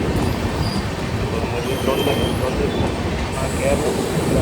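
A passenger train from Trivandrum to New Delhi rumbles steadily along with constant wheel and track noise, heard from onboard, with faint voices underneath.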